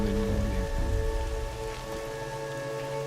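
Rain falls as a steady, soft hiss of drops on surfaces in the video game Horizon Zero Dawn, with faint sustained tones underneath and no talk.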